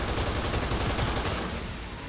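A gun fires in Cyberpunk 2077 as a rapid fusillade of shots, dense and fairly quiet, thinning out over about two seconds.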